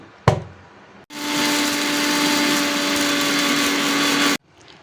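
An electric mixer grinder whirs loudly and steadily for about three seconds, grinding fenugreek, fennel, curry leaves and mustard seeds in a home kitchen; a brief knock comes before the motor starts, and the sound cuts off abruptly.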